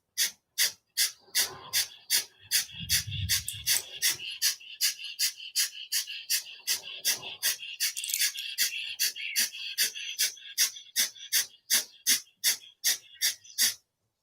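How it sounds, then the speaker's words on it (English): Kapalabhati yoga breathing, with a long run of sharp, forceful nasal exhalations in a fast, even rhythm, close and distinct, and a few softer breath sounds between them. "And it's a chest breath, and it's a sharp exhalation, moving the breath into the brain."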